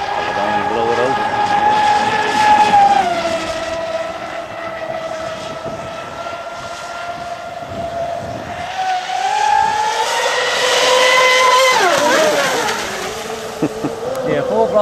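Electric twin-motor RC airplane, an Expresscraft Thunderbolt, whines loudly at full throttle, its pitch rising and falling as it passes near, a steady buzzing drone that swells toward the end.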